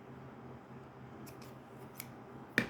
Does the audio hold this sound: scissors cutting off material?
yes